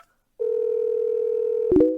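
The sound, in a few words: telephone dial tone, calling someone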